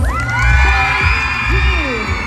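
A crowd at a dance competition's team day cheers and whoops for the families, with broad noisy cheering and scattered shouts of children.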